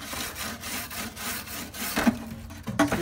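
A worn, hole-riddled flavorizer bar from a Weber grill being scrubbed with a brush, close rhythmic back-and-forth strokes with a couple of sharper knocks near the end, no voices.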